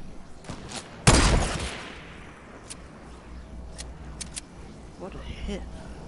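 A loud burst of Fortnite gunfire cracks out near the start and then trails off into quieter, scattered game noise. Voices chatter around it.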